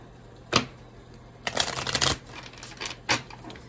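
A deck of tarot cards being shuffled in several quick riffling bursts, one short, then a longer flurry and a few more, close and crisp with no talking.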